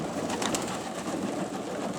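Pigeons coo softly and continuously, several birds murmuring together at close range amid a steady background hiss.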